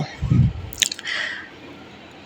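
Fried aair fish, cooked down in a spiced curry base, is poured into a pan: a wet squelching slide, a few sharp drips and clinks, then a soft sizzle that fades out.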